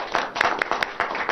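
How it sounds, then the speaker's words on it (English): Applause for Dr. Patrick Wakida after a 2016 opinion poll results presentation: a short burst of clapping with quick, uneven slaps from a crowd, fairly close and moderately loud. "Please give him a round of applause."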